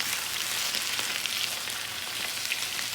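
Potatoes fry in a hot pan on the stove, giving a steady, close, crackling sizzle that runs evenly throughout with no voices.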